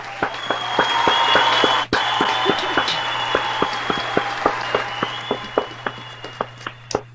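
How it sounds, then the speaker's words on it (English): An audience claps and cheers for an encore at a live music show, a dense wash of applause with whoops that thins into scattered, separate claps toward the end, with a steady low hum beneath. "do you like that clapping and encore stuff?"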